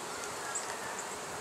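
A swarm of honey bees clustered in a hollow bee tree gives off a dense, steady buzzing hum, close and unbroken, with no voices.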